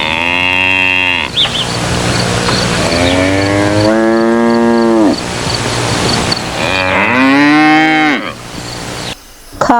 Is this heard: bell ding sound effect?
no